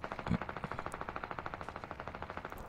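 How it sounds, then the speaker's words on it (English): Rapid, steady automatic gunfire in Fortnite rattles in a continuous burst, muffled and somewhat distant, with one sharper shot near the start. "I'm hearing gunshots"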